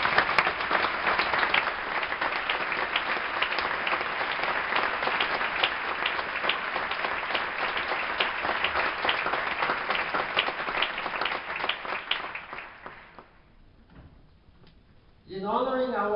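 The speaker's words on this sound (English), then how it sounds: "Will you give them a big round of applause?" Big round of applause from a theatre audience at the Teatro Real in Madrid, dense steady clapping that holds loud for about twelve seconds before fading out, followed by a brief voice.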